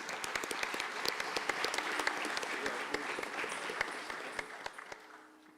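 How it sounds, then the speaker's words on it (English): Audience at an arangetram, a classical dance debut recital, applauding the dance teachers: many distinct hand claps over a steady crowd wash that thins toward the end. "Let's give a big round of applause for these two amazing teachers."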